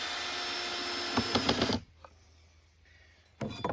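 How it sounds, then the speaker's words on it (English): A power driver whirs steadily as screws sink into pallet wood for an outdoor coffee table, then cuts out abruptly, leaving near silence before a brief mechanical clatter returns. "So once you got those holes drilled, just a matter of sinking in some screws."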